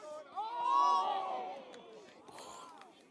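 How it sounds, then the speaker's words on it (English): A crowd at a university American football game roars and cheers, swelling then fading over about three seconds, heard at a distance with a voice talking over it. "You can hear the crowd here."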